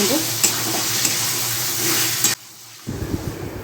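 Pointed gourd and potato pieces hit hot fried spices in a pan and are stirred, giving a loud, steady sizzle with scraping. It drops out briefly, then the frying resumes with spatula stirs.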